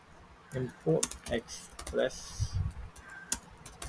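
Fast typing on a computer keyboard while coding, clusters of sharp clicks up close, broken up and partly overlapped by someone talking.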